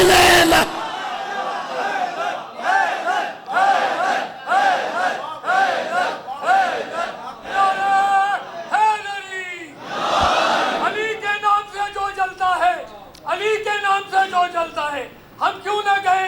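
A large crowd at a Shia religious gathering chants the slogan Haidari in loud, rhythmic repeated shouts, led by a voice and answered in unison, with cheering between bursts.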